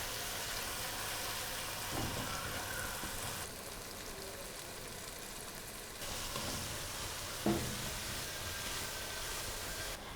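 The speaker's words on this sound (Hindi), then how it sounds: "बैंगन को हम ऑयल में 2 से 3 मिनट तक मीडियम फ्लेम पर फ्राई कर लेंगे।" Eggplant fries in oil over a medium flame, giving a steady, dense sizzle like light rain that holds evenly throughout with a few small pops, close and without talking.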